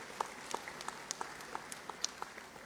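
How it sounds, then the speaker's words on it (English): Audience applause at a university graduation ceremony in a hall, a faint, thin spatter of scattered claps heard from a distance. "Give them a round of applause."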